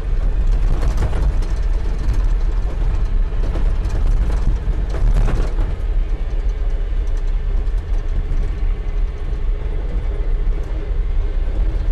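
A Chevy R30 dump truck engine drones steadily while driving, a loud, continuous rumbling mechanical roar with rattling from the truck body and no voices.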